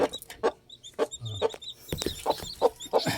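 Dekalb Brown hens clucking nearby in a run of short, repeated bursts, with a few higher squawks mixed in and no talking.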